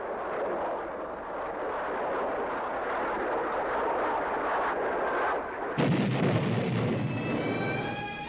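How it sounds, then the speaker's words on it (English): Aircraft cannon fire from a classic F-4 Phantom II camera gun film, a dense continuous roar of rapid bursts that rumbles throughout, with a sharper, brighter surge near the end. "And sometimes by cannon fire, as in this classic camera gun film."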